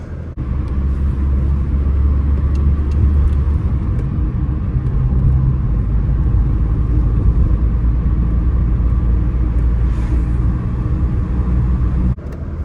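A 1972 BMW Neue Klasse 2000 driving in the rain, heard from inside as a loud, steady engine drone with road and tyre rumble, continuous throughout with a faint thump near the start and end.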